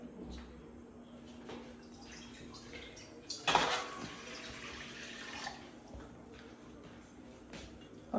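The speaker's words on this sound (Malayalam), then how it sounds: "പാത്രം വെക്കാം, കുറച്ച് വെള്ളം ഒഴിച്ചു കൊടുക്കാം." Water poured into a cooking pot set on a gas stove for steaming, a splashing pour up close with a brief louder gush midway and lighter trickles and clinks after, no talking.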